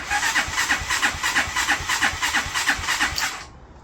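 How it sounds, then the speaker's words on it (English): A Pioneer Nevada 125cc motorbike engine cranks over and over without catching, a rapid, even chugging pulse that holds for several seconds and then stops abruptly. "It's clearly trying to fire, but it's not firing."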